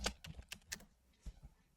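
Quick bursts of keystrokes on a computer keyboard, close and fairly quiet, a few irregular clusters of clicks with short pauses between them, no talking.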